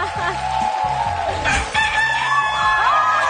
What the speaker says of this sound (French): Le chant du coq signifie que vous avez un deuxième choix d'œuf